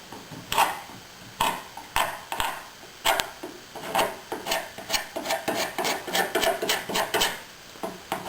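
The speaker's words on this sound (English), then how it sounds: "come along with your putty knife. Clean up the excess." A putty knife scrapes excess epoxy seam fillet, making repeated short rasping strokes at a steady rhythm, close and fairly quiet, with the strokes coming faster toward the end.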